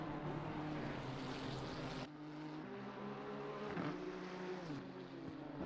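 Ferrari GT3 race cars roar around Brands Hatch, a loud sustained engine drone with shifting pitch as the cars pass, a sudden drop in intensity midway, then continued engine whine.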